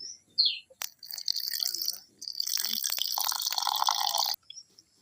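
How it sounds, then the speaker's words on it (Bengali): Water is poured into a chopped banana flower mixture for fritters, a steady splashing pour of a few seconds preceded by a couple of small drips, close and fairly quiet. "আমরা পরিমাণ মতন জল দিয়ে দেবো।"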